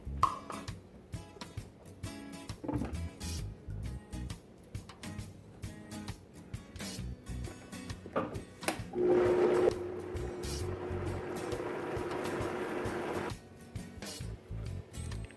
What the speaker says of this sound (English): Now I'm going to add 1 cup of water and blend